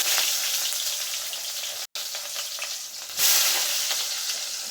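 Onions sizzling hard in hot oil in a pan for chicken curry, a continuous loud frying hiss with a brief cutout and then a louder surge as they hit or are stirred.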